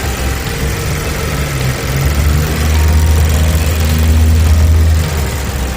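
A 2015 Mazda CX-5 Touring AWD with a Skyactiv engine idles steadily and smoothly up close, a continuous low hum with no talking.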